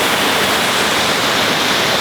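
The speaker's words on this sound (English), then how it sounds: "so that there's more water flowing over the dam from Duck Harbor" Water rushes over a mill pond dam spillway at a sawmill, a loud, steady, broadband roar with no breaks or voices.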